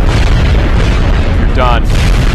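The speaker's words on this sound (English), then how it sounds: "So you can airburst rockets, which is really cool. You can tell them exactly where to explode." Rocket airburst explosion in XCOM Enemy Unknown, a loud booming blast over a dense, steady roar of game noise, with a brief tonal burst near the end.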